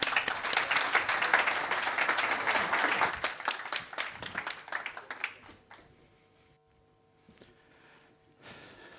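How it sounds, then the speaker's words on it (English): Audience applause for a speaker at a Magento developer conference, dense clapping for about five seconds that thins out and fades, leaving quiet room noise with a few scattered claps. "Please give a round of applause for Andreas."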